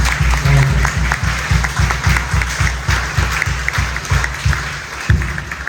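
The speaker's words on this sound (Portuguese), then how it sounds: "Agora nós acordemos com uma salva de palmas a todas as nossas crianças e adolescentes." Congregation applause in a church during a Catholic mass, with broad clapping noise over a strong repeating low rhythmic pulse, loud and close.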